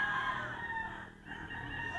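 A White Kelso rooster crows over a busy background of other chickens clucking, with a brief dip in the middle of the crow.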